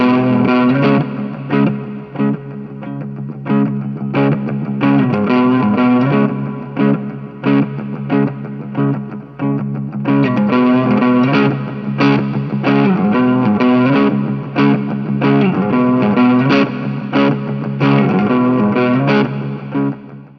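Electric guitar run through an EHX Soul Food overdrive pedal, dialed to a classic rock tone, plays loud, continuous overdriven chords and riffs for about twenty seconds, with a brief pause midway.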